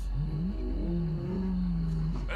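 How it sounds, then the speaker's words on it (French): A maned lion lets out a deep, rumbling roar that rises and then holds in long, sustained groans, close and powerful over a low background hum. "il pousse un rugissement"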